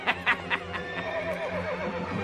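A cartoon horse whinnies in a short, close neigh with a wavering, descending tail, heard alone over faint background.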